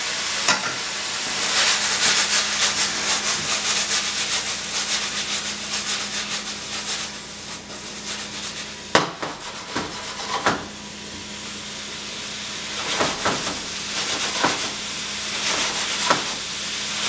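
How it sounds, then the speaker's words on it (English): Pineapple sizzles steadily in a hot pan for sweet and sour pork, a continuous broadband frying hiss with occasional sharp clanks and scrapes of stirring, no talk. "So I'm going to add my pineapple."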